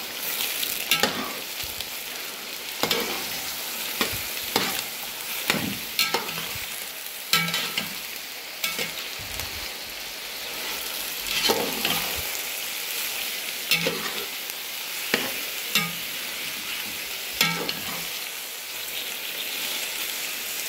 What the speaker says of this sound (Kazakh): Ең бірінші мен пиязды саламын.